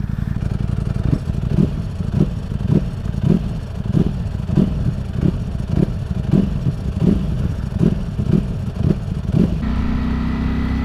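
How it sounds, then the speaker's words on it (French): A Ducati Streetfighter V4 SP motorcycle with a dry clutch runs close by, its low engine note broken by a steady, evenly spaced clatter about twice a second. The sound changes briefly near the end. "quand tu roules en Ducati, surtout quand tu as un embrayage à sec, ce bruit il est tellement distinctif"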